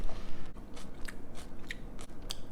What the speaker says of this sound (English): And then the celery adds a really beautiful crunch.